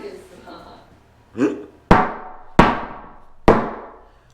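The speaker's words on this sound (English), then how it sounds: "I forgot that I'm using a frame hammer" A framing hammer strikes foam and wood in three sharp, loud, close blows spaced under a second apart, each ringing briefly, after a softer muffled sound at the start.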